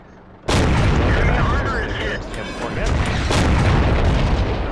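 Tank cannon fire in the World of Tanks video game: a heavy, loud boom bursts in after a quiet start, followed by rumbling battle noise and a second, softer blast a few seconds later.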